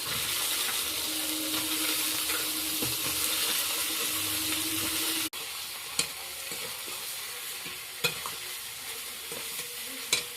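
Ridge gourd pieces drop into a pan of frying spice paste of ginger, cumin, poppy seed and onion, where a steady loud sizzle gives way after a sharp change to quieter frying punctuated by occasional stirring knocks.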